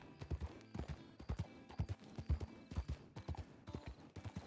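Horse hooves clip-clopping in a RedM western roleplay game, a steady quick run of soft thudding hoofbeats at fairly low volume with no talk over them.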